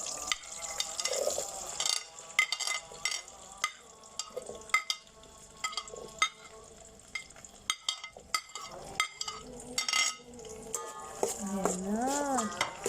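Garlic, then onion, sautéing in a pan for tilapia adobo, with steady sizzling and frequent spoon-stirring clatters throughout; a voice speaks briefly near the end.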